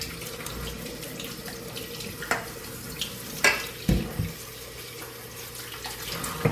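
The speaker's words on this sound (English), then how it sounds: "And you rinse your tuna." Cold tap water runs over tuna in a sink, a steady close splashing stream broken by a few louder bursts and knocks as the fish is handled.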